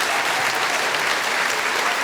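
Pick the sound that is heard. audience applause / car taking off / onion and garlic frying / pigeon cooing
audience applause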